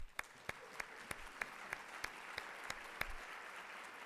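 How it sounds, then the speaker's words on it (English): Sparse, evenly spaced claps ring out at a museum exhibition opening lecture, about three per second, fairly quiet against a hushed room. "Lori Huber, please rise to receive our gratitude in applause."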